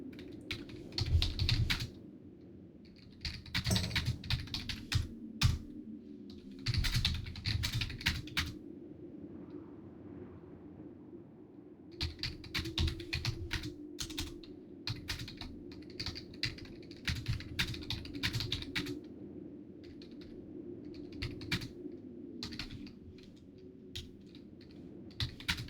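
Bursts of fast typing on a computer keyboard, close and crisp, come in several runs separated by short pauses, with steady clicking keystrokes and a low background hum.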